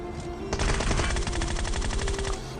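Groza assault rifle fire in PUBG Mobile played on an iPad Air 3: a sustained rapid automatic burst of crisp, evenly spaced shots lasting nearly two seconds, loud and close with no talk.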